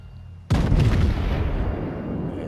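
A naval gun broadside from a battleship in World of Warships goes off with a sudden loud boom followed by a long rumbling roar that slowly fades.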